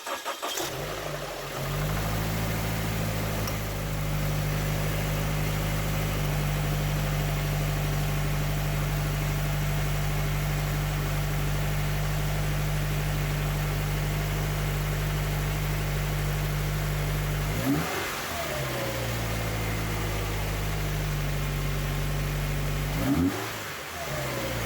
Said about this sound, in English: And now finally we can start the car and try it out.